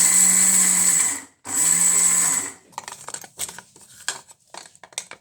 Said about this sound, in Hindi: We'll grind all the things.